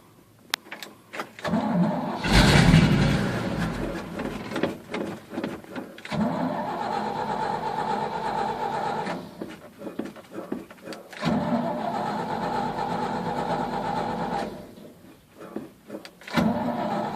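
A 1970 Chevrolet C20 truck engine cranks repeatedly without catching, the starter grinding in two long bursts separated by short pauses, loud and close, with a brief voice at the start.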